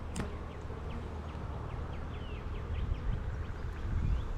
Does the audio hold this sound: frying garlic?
no